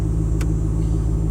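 A car rolling slowly forward into a parking spot during a driving lesson, a low steady engine rumble close by with one brief hiss partway through.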